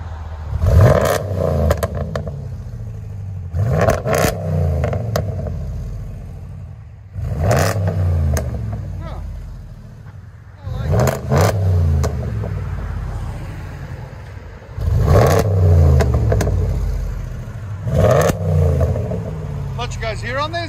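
A RAM 1500 with the 5.7L HEMI V8 and an aftermarket exhaust with resonators, close and loud, revs in six separate bursts, each rising and falling back to a quieter idle between.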